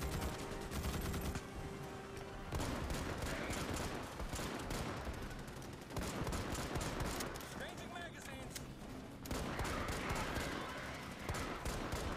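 Sustained rapid gunfire from the player's weapon in Starship Troopers: Extermination on PS5, dense bursts of shots with heavy recoil over loud game combat noise, running nearly the whole time with brief changes in intensity.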